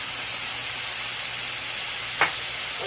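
Tomatoes hit a hot pan of chicken and potatoes, setting off a steady close-up sizzle and hiss of frying, with one brief sharp clatter near the end.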